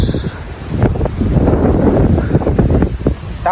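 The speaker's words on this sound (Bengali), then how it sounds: "নির্মল বাতাস" Outdoor wind at a Maldives art resort buffets the microphone in low, uneven rumbling gusts for a few seconds.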